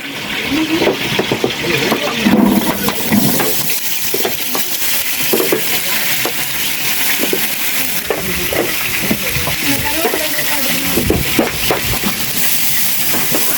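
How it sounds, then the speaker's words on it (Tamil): A kilo of onions sautéing in a large pot for dum biryani, with a steady hiss and sizzle, occasional stirring clatter, and loud continuous frying noise throughout. "கோல்டு கலராக வர மாதிரி வெங்காயத்தை வதக்கணும்"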